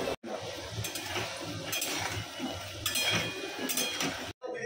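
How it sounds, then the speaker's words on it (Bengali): Plates, pots and utensils clink and clatter close by in a home kitchen, a busy stream of light metallic knocks and scrapes with no one speaking. "এই যে যেমন এই থালা বাসনগুলো যেমন বের করেছিলাম ওপর"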